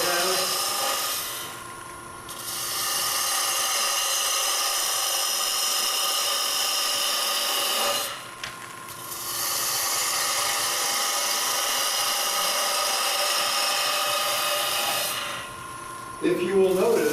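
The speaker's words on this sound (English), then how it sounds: "This is a 3/8 inch roll gouge." Wood turning on a lathe with a 3/8 inch roll gouge, the tool rest set low, gives a loud, steady broadband hiss of cutting that runs in two long passes of about five to six seconds each, with brief pauses between them.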